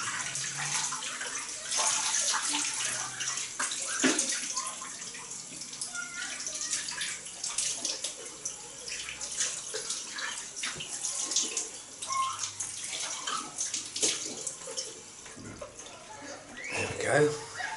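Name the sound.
cold water rinse after a shave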